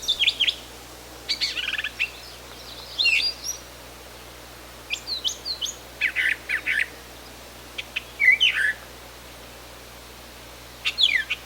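Brown thrasher singing outdoors, a species that mimics other birds: repeated bursts of bright, varied chirps and whistled phrases separated by short pauses, moderately close and clear over a steady low hum.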